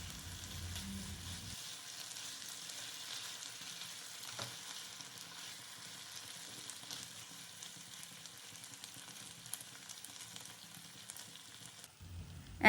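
Paneer with vegetables being gently stir-fried and mixed with sauce and seasonings produces a soft, even sizzle with faint stirring scrapes, low in level and steady, with no voices.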